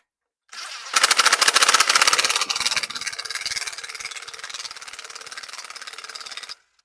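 Pneumatic air impact gun driving engine bolts while reassembling a 392 stroker engine, a loud continuous buzzing rattle after a brief lead-in, steady for about six seconds before cutting off.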